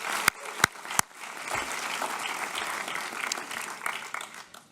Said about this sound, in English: How about a huge round of applause for Mrs.